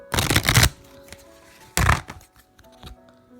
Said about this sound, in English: Give them one more quick shuffle.